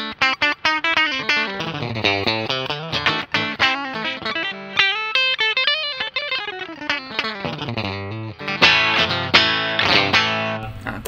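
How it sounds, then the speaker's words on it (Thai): A Gusta GST 07 electric guitar played through distortion on its single-coil pickup, with a busy run of picked notes and chords, some bent upward, bright and saturated with a light chorus shimmer, loud and alone. "ตัดเป็นซิงเกิลคอยนะครับ"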